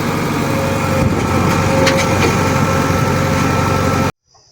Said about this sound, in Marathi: आपल्याला एक ट्रॅक्टर मरून पाहिजे होता तर आपण ट्रॅक्टर घेऊन आलो इकडं